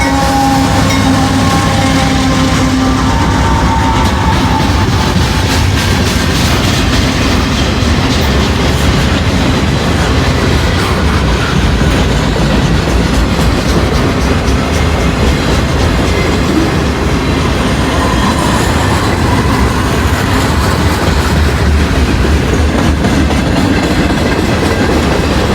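A northbound freight train passes close by in a loud, steady roar, with rolling rumble and clickety-clack of the wheels over the rails going on throughout and no voices.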